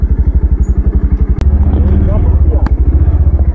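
A motorbike starts and settles into a steady, close idle on an off-road track, a rapid pulsing thump throughout with a sharp click partway, while someone talks over it.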